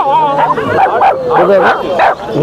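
Several dogs at a cheap pet dog market in Kolkata bark and yip loudly and close by, with whimpering mixed in, in overlapping bursts while people talk nearby.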